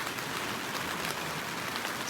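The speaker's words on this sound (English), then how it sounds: "It's raining." Rain drumming on a tent roof during car camping, a dense, steady, close patter filling the whole moment with no pauses and no voices.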